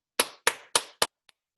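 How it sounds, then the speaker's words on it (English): Four hard, sharp hand claps in a steady rhythm, loud and close, each a crisp broadband crack with a short decay, followed by a faint tap; no voices. "Let's try clapping our hands together very hard and let's see if it makes a loud sound"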